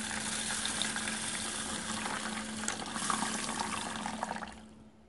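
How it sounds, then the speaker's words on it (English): Water rushes and splashes steadily over whole grains in a bowl as they are washed and drained for sprouting, a continuous close pouring sound that fades out at the end. "Add 1 glass of water and wash these grains thoroughly and drain it out."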